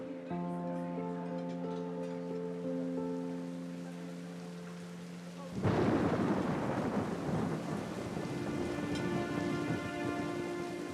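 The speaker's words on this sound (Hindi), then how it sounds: "काफी तेज बारिश हो रही है, लेकिन मुझे तो पसंद है।" Steady, hard rain pours down, swelling suddenly into a louder downpour halfway through; a sustained musical tone hums beneath the first half.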